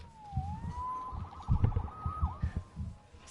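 Police car siren in the Spider-Man PS4 video game, a rising and falling wail over a low rumble of city traffic, moderately loud and without talk.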